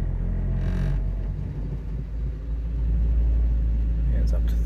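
A Holden VX SS Commodore with a 4L60E automatic transmission runs in drive while raised on stands in a garage, giving a steady low engine rumble that swells slightly toward the end.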